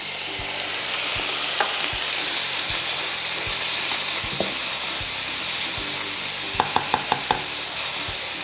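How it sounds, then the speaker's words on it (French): Seasoned chicken pieces fry loudly in a pan after a small splash of water, a dense steady sizzle and hiss with a few sharp clinks and taps near the end. "on rajoute un petit filet d'eau"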